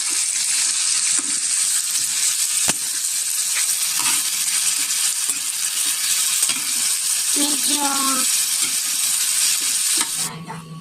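Pork sizzling as it is sautéed with peppercorns in a pan and stirred, a steady close frying hiss with a sharp utensil knock near the middle and a few scrapes later on.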